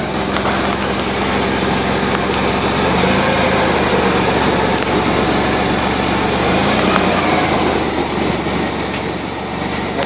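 A 1997 Chevy S10 Blazer with a front differential fault runs its engine in a loud, continuous, steady hum with a hissy high-pitched whine on top, heard close up with no voices.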